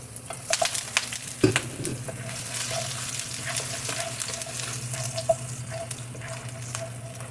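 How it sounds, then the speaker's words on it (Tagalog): Chopped garlic frying in hot oil gives a steady, close sizzle with a few sharp clinks and stirring knocks early on, then settles into a continuous crackling hiss with no talk. "Ilagay na natin ang ating chopped garlic."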